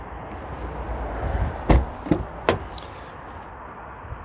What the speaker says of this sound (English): I have the aircon blasting.